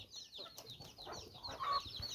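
Chickens cluck softly outdoors on a farm, a busy layer of fowl calls over faint background noise, fairly distant and steady.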